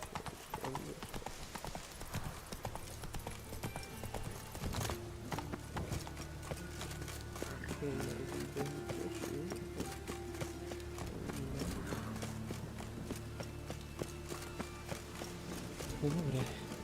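Roach the horse trotting in The Witcher video game, with a steady rhythmic clip-clop of hooves throughout, close and clear over a background of game music and ambience.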